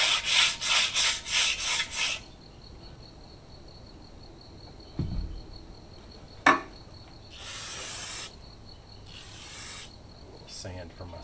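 Sandpaper scrubs across a brake drum from a 1985 K5 Blazer in quick rhythmic strokes, then falls quiet before two longer rasping passes, with a sharp knock in between, close and clear.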